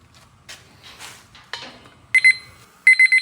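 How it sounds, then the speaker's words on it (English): A ChefAlarm probe thermometer's alarm goes off at 160 degrees while duck cooks in a Char-Broil Big Easy oil-less fryer: two loud bursts of rapid, shrill electronic beeps following a few quiet clicks and handling sounds. "I'm gonna go ahead and turn that blessed alarm off."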